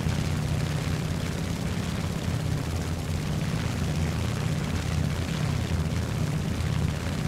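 A Zero propeller fighter plane engine in War Thunder drones steadily and loudly throughout, a continuous low, rough roar with no pauses or talk over it.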